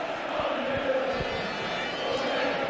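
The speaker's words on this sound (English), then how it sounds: "if you can hear the crowd describing the scoreline at the moment" A football crowd at Sunderland versus Barnsley in 1987 chants the scoreline, a broad roar with low rhythmic pulses running through it at steady volume.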